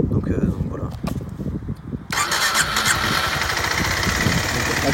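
A Kawasaki Z125 motorcycle engine kicks into life partway through, then runs at a steady, loud idle after a quieter stretch of low rumbling.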